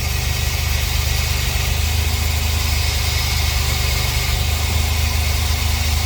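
A cold car engine with a rough idle idles steadily at close range, a low continuous rumble with slight vibration and no voices.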